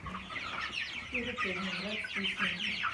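Twenty-eight-day-old broiler chickens cluck and chatter in a farm pen, a close, busy mix of overlapping clucks and short calls with no talk.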